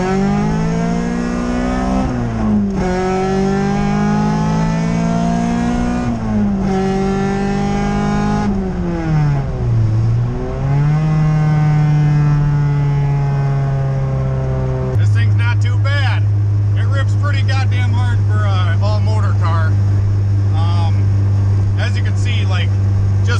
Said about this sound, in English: Alright, so we'll do a second gear roll.